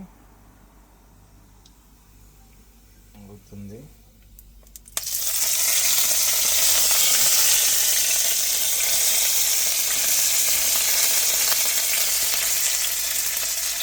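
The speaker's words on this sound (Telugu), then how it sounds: "ఆయిల్ వేస్తున్నాను, జీరా, బ్లాస్ట్ అవుతుంది" Cumin seeds hit hot oil for a village-style drumstick and egg curry: after a few soft clinks of a utensil, a sudden loud, steady hiss of sizzling and spluttering starts and carries on evenly to the end.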